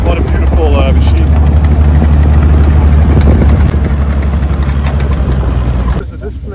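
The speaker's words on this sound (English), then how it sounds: "Beautiful German tank, camouflaged in a late war camouflage patterns, and he's just driving here around the corner" A late-war German WWII tank in camouflage paint rounds a corner at a tank display event in Oeselgem, Belgium, its engine a loud, heavy, continuous rumble that drops off near the end.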